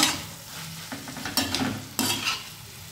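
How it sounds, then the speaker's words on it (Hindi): Spoon stirring okra with spices in a frying pan, soft sizzling under a few sharp scraping strokes against the pan, close and moderate in volume, no talking. "अपने मसालों के साथ अपनी भिंडी को भी अच्छे से मिक्स कर दूंगी"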